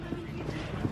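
Horses' hooves clip-clop along a dirt hiking trail at Taal, Batangas, a brief stretch of steady hoofbeats set against outdoor background noise.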